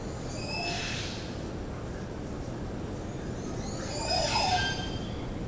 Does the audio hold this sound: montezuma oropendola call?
yes